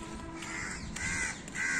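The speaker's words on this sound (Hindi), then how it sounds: "देखिए कौवा बोल रहा है, उड़ गया।" A crow cawing outdoors on a green morning, giving two or three loud, harsh caws close by, one after another, with no talk over them.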